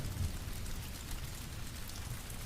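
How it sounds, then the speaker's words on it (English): Steady rain falls in a continuous, dense hiss during a fantasy-themed storm soundscape, with no thunder or voices, holding an even, close, moderately loud wash throughout. "The storm begins now."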